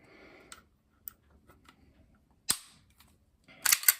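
A Tanfoglio pistol reassembled with hardened Patriot Defense parts: scattered sharp metallic clicks and snaps, with louder clacks of parts seating near the end.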